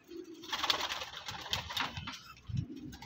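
Pigeons cooing in a pigeon loft in Jaranwala, a few soft, low, rolling coos close by with faint rustling between them.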